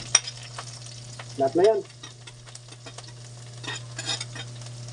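Garlic and onion with ginger are stirred in a pan at home, soft frying and scraping with a steady background hum, a short spoken phrase in the middle.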